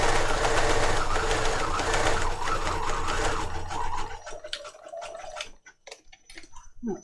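Sewing machine stitching fabric pockets for a junk journal, a steady rapid mechanical chatter for several seconds, then stopping and starting in short bursts as stitches are reversed to lock them.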